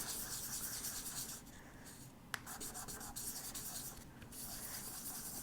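Soft, steady rubbing of sandpaper across hard metal clay, close and quiet, with a brief tap partway through.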